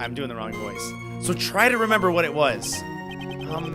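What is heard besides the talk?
None of the usual background noises is heard.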